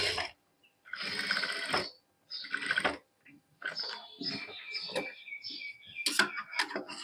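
Short bursts of a sewing machine stitching a princess cut blouse, starting and stopping in quick stretches with clicking and rattling between runs, up close.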